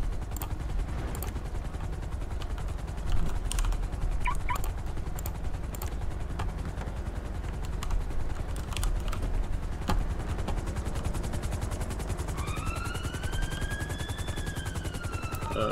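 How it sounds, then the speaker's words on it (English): A helicopter landing outside in a backyard, its rotor thudding steadily in a continuous, droning roar throughout, with a few high whistling tones rising near the end. "a helicopter landed outside in the backyard"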